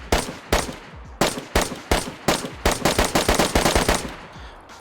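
Bursts of M249 machine gun fire in the video game DayZ, loud and close, with several short volleys followed by a longer sustained string of rapid shots.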